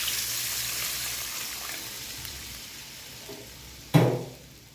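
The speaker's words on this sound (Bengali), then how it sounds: "এবার মশলাগুলি কষানোর পর আলুগুলিও কষে নিলাম, তেজপাতাও দিয়ে দিয়েছি।" Potatoes and spices sauté in a pan for an aloo-paneer curry, giving a steady broad sizzle throughout, with a sudden louder hiss and splash near the end that quickly fades.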